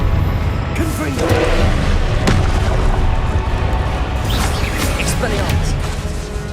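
A Confringo fire spell explodes in the Hogwarts Legacy game, a loud booming blast followed by dense crackling and rumbling combat noise that stays heavy for several seconds.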